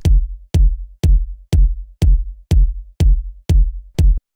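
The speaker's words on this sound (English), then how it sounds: "You know, you want this more like soft sort of 808-esque kick." Nine soft 808-style kick drum hits with saturation pound at an even tempo, each a deep, round thump decaying quickly into silence before the next.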